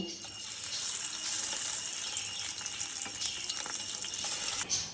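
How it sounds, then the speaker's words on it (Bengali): Fish sizzling and spitting in hot mustard oil in a pan, a steady bright frying hiss with crackles running throughout at moderate level, no talk over it. "তেলটা গরম হয়ে গেছে, এবার আমি মাছগুলো ভেজে নেব।"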